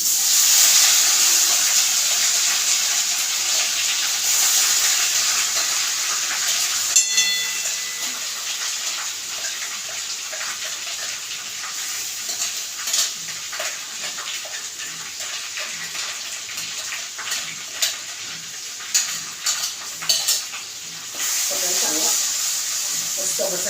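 Masala frying in a pan over a low gas flame, a steady loud sizzle and hiss with scattered crackles and spits that hold throughout.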